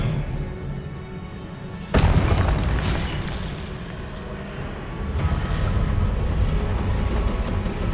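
An Expelliarmus spell fires in the Hogwarts Legacy video game: a sudden heavy boom about two seconds in, then a sustained roaring rumble of game effects that swells again toward the end.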